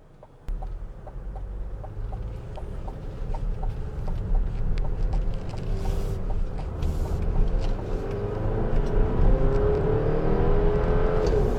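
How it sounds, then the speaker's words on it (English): A 2024 Chevy Traverse Z71 accelerates quickly, heard from inside the cabin as a steady low engine and road drone that rises in pitch and grows louder over several seconds. "I'm just doing a quick acceleration on this. It's pretty quick."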